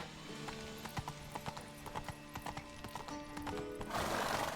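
Horse hooves gallop in The Witcher 3 with a quick, regular clip-clop rhythm at moderate volume, joined by a brief whinny and a rising rush of wind or movement near the end.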